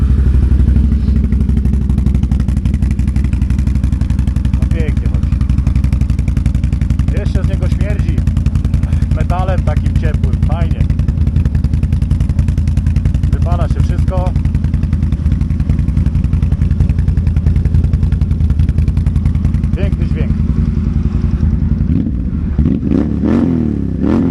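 A 2024 Can-Am Outlander XXC 1000 ATV engine rumbles steadily and loudly throughout, with voices talking over it now and then.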